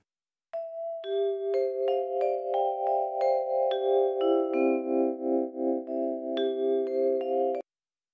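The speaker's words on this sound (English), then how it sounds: "Vibraphone. This is quite old sample." An old sampled vibraphone from the Hallion Symphonic Orchestra library plays a slow sequence of sustained, bell-like mallet notes and chords, ringing smoothly and close without any voices.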